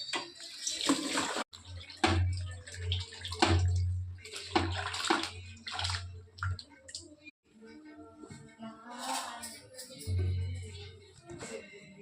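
Cut drumstick pods being washed in water for drumstick rice, with running tap water and sloshing in a vessel, loud and close, broken by brief pauses and clatters.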